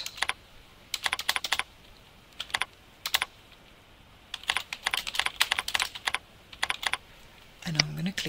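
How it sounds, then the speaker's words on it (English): Computer keyboard typing while a comment field is edited in report-design software, coming in quick clattering bursts separated by short pauses, close and moderately loud, with a brief tonal blip near the end. "I'm just going to change my comment by double clicking on it and typing in here"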